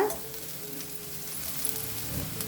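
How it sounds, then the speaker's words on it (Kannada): Cauliflower sizzles and fries in a pan over a high flame, a steady close crackle with soft stirring noises throughout. "ಇದನ್ನು ಹೈ ಫ್ಲೇಮಲ್ಲಿನೇ ಈ ಥರ ಹುರ್ಕೋಬೇಕು ನೋಡಿ ಇದ್ರ ಕಲರ್ ಎಲ್ಲ ಚೇಂಜ್ ಆಗ್ತಾ ಇದೆ"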